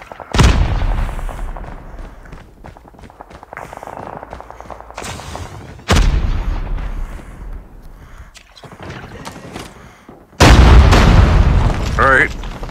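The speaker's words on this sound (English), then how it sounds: "Didn't die from being shot. I got blowed up." Explosions go off in a Call of Duty Mobile match, three loud booms spaced several seconds apart, each with a fading rumble, alongside game noise and someone talking between blasts.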